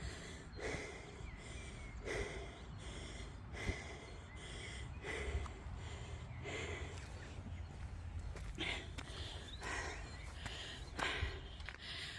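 Someone walking uphill on a solo trip near Glastonbury breathes heavily and rhythmically, with quiet puffing gasps and snorts close to the microphone, and there is no speech.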